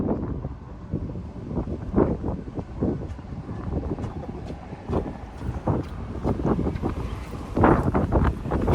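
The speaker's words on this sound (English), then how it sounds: "It is blustery today." Blustery wind on a riverfront buffets the microphone in uneven rumbling gusts, loud and close, with no voices.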